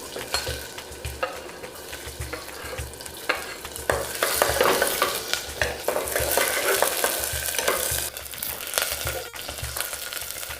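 Onion and mint (pudina) fry in a pot while being stirred: a steady, close sizzle with scraping and clinking of the spoon against the pot, and no talking.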